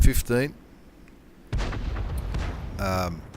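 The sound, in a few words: Hummel artillery firing in video game World of Tanks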